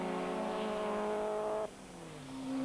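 Rallycross cars race at Lydden Hill, engines loud and close with a steady high whine that cuts off abruptly as one passes, then a lower engine note rises back in.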